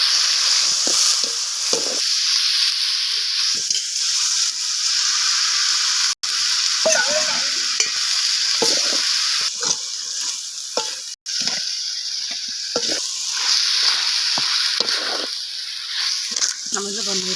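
Chicken pieces hit a hot pan for biryani gravy, a steady sizzling fry that runs the whole time with stirring scrapes and clatter. A voice speaks over it now and then.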